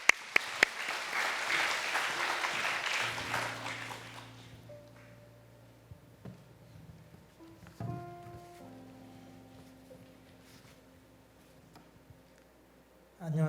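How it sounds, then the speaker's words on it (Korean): A church congregation at a Friday prayer service claps in a burst of applause that swells and then fades after a few seconds, leaving quiet hum and a few faint knocks. "우리 박수하겠습니다"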